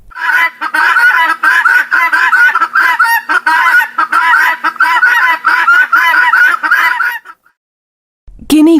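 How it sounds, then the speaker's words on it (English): A guinea fowl calls in a rapid, repeated run of harsh cackling notes for several seconds, loud and close, then stops, followed by a brief low sound at the end. "Guinea fowl."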